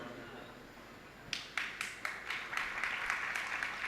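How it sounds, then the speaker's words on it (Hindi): Applause at a Jain religious discourse, starting after a quiet pause as a short run of about a dozen fairly even claps from a single person, moderately near and rising slightly in pace. "एक ही जने ने ताली बजाई"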